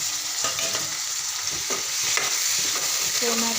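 Finely chopped tomato frying with spices in oil, a soft continuous sizzle punctuated by repeated light scrapes and taps of a spoon stirring the pan.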